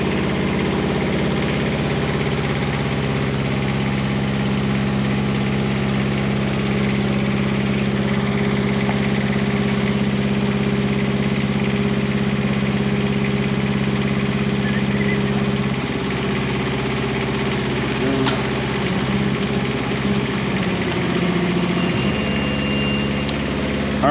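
A CTE Traccess 230 tracked spider lift runs its engine while auto leveling, giving a loud, steady idling drone with a low vibrating hum. The tone shifts slightly partway through, with no talk over it.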